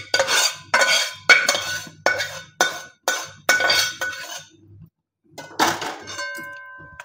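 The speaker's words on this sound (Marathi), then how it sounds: "राहिलेलं मिश्रण परत आपण बाकीचं भाजून घेऊ" Ladoo mixture is dry-roasted in a pan, and a spoon scrapes and clinks against the metal in repeated sharp strokes, several in a row, then a pause and a final scrape with a faint ringing.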